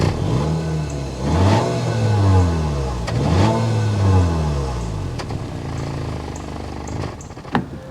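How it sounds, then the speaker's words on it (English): A 2023 Acura RDX A-Spec Advance SUV starts up and revs twice in quick sweeping bursts, then settles to a steady idle close by, with no talking. "start it up so you can hear that VTEC exhaust note."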